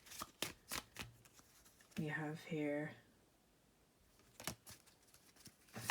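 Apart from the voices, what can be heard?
shuffling a deck of cards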